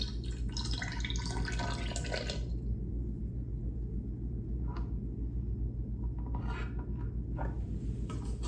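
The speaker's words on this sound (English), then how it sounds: "Oh, it's dripping." Coolant drips and patters irregularly from a motorcycle's drain into a container during a coolant change on a Suzuki SV650, with a few scraping, rasping bursts at the start over a steady low hum.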